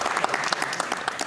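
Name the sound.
audience applause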